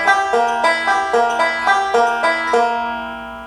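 A banjo picks forward rolls from a beginner lesson on "I'll Fly Away", with about eight bright, evenly spaced plucked bursts ringing out clearly and alone before the notes decay.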